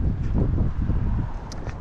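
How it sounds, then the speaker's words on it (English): Gusty wind buffets the microphone outdoors on a walk, a steady low rumble with soft rustling that holds for the whole short stretch. "Kind of windy."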